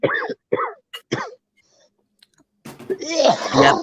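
A person coughs harshly and repeatedly up close, in a dense burst near the end, preceded by a few short throat sounds and a pause.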